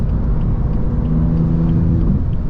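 A BMW M4 CS under full throttle in fourth gear from around 4,000 RPM, a loud steady low engine rumble and drone filling the cabin, with a faint rising tone as the turbos build boost.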